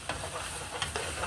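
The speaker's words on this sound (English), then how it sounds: "it has to be well fried, so that the scent of the onions and the tin tomato will come in together and become aroma" Onions and tinned tomato frying in a pot for Nigerian jollof rice: a continuous close sizzle with occasional stirring scrapes and no voices.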